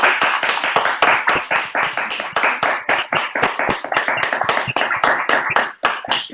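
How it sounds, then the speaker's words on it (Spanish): Participants in an online dance meeting clap together in steady, fairly close applause that runs unbroken for several seconds, sharp individual claps blending into a rhythmic patter. "Rodrigo, pues vamos a aplaudir, ¿no? 1, 2 y 3."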